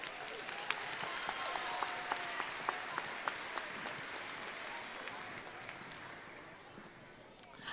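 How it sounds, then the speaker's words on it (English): Audience applause for Owen at a high school choral festival, a fairly distant, sustained wash of clapping with a few sharper claps, slowly tapering off toward the end, with faint crowd murmur beneath. "Give him a round of applause, everybody."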